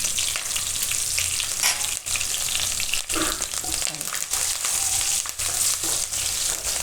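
Curry leaves and asafoetida crackle and spit in hot oil with a loud, dense sizzle and occasional sharper pops, heard close up.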